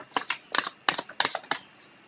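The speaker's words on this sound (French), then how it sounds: "Donc on va prendre une carte oracle" Oracle cards being shuffled by hand, six crisp riffling bursts in a quick, steady rhythm, close and clear with no voice.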